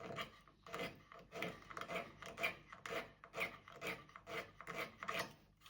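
A small cabinet scraper rasps repeatedly across the face of a wooden plane, about a dozen quick close strokes in steady rhythm, faint and alone.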